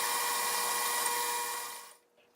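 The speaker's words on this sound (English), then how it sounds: "First, we drill a pilot hole, then countersink down to make a recess to fit your finger." A drill whines steadily while boring a pilot hole in square steel tubing clamped in a cross-slide vise, a bright continuous tone that fades out after about two seconds, followed by a short click.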